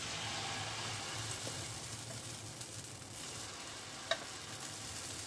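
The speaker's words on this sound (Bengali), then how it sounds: "এবারে ব্যাটারটা দিয়ে দেবো।" Mung dal chilla batter poured into hot ghee in a pan, a steady soft sizzle and frying hiss throughout with one small tap near the end.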